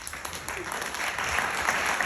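A room of listeners at a go-go music panel discussion in a library applauds the panelists, brisk continuous clapping that builds slightly louder, with music or tones faintly underneath.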